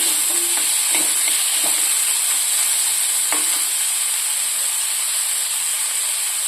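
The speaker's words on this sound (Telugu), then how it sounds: "ఇవన్నీ వేసుకుని చక్కగా ఒక టూ మినిట్స్ వేయించుకోవాలి" Onions frying in oil in a pan for a South Indian yogurt tempering give a steady, loud, close sizzle and hiss, with a few soft stirring knocks, and no voices.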